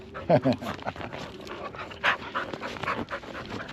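Dogs panting rapidly in quick, breathy bursts up close, with a few louder huffs and a person talking at times.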